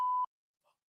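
A single steady electronic bleep tone, about a quarter second long, followed by silence and a faint brief murmur.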